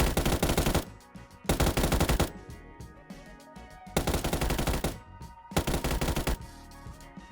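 Gunfire in the battle royale game PUBG, with rapid automatic bursts in several loud clusters separated by quieter stretches of scattered shots and background game noise.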